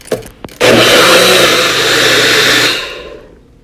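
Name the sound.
blender blending carrots and cantaloupe juice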